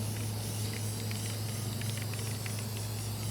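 A steady, continuous spray hiss runs throughout over a low constant hum, with faint rattling flecks scattered through it.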